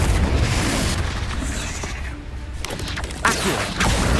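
Explosive Confringo spell cast in a video game, heard as loud, dense, crackling blasts and booms that run together over the whole stretch with a sharper burst near the end.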